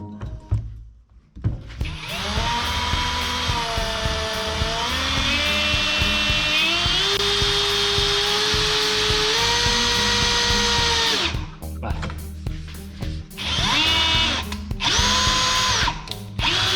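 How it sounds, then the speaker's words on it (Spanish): A HyChiKa cordless drill in screw mode, torque setting 21 at speed level 1, drives a screw with a steady loud whine for about nine seconds, then stops and restarts in shorter bursts. "En modo atornillar, máximo par de apriete 21, nivel 1, para que no vaya digamos tan rápido. Y vamos a meter nuestro tornillo."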